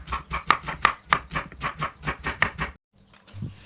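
Rapid knife cuts through banana stem, a dense run of crisp chopping strokes close up, then a brief pause and a soft thud.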